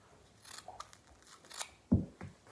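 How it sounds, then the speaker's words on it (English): Scissors snip through tape on a hockey stick. Several quiet, crisp cuts come at uneven intervals, closing in one sharper, louder snip near the end. "you just take your scissors and go like"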